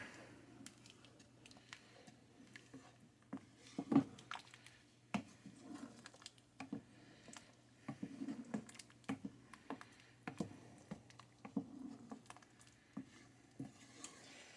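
A spoon stirs ham and potato soup in a pot, making faint wet swishes and soft irregular scrapes and knocks against the pot across a quiet stretch.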